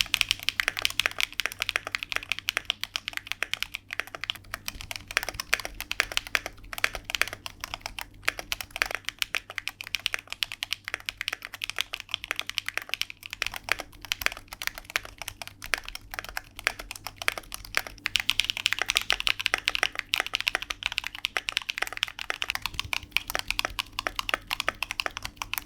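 A mechanical keyboard with linear and tactile switches is typed on continuously in a close, dense run of sharp clacks and key bottom-outs, moderately quiet, with a brief faster burst around the two-thirds mark and no voices.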